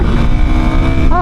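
A 2026 Kawasaki KLX300 dual-sport motorcycle ridden on a street, its engine droning loud and close throughout the brief moment, with a rising rev near the end.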